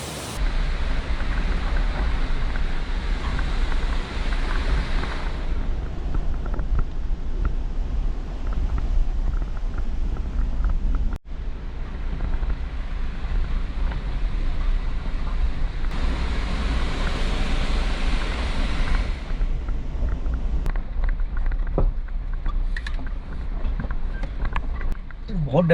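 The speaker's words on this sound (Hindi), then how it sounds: "पानी का फ्लो बहुत ही ज़्यादा है" Strong stream water rushes across a dangerous mountain road in Himachal Pradesh, a loud, continuous broadband roar with wind buffeting the microphone, with people talking throughout.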